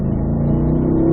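A car on a track accelerates out of a left-hand turn, its engine note a steady, close, loud low drone that holds evenly throughout the brief moment.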